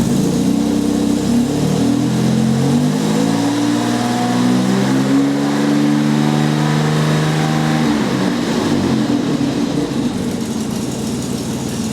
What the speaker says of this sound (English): So I'm going to rev it up a bit and see what happens.